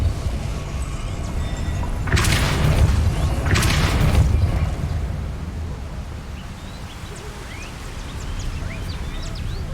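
Depulso force-push spell cast in the video game Hogwarts Legacy, two loud whooshing blasts in quick succession over a rumbling game ambience.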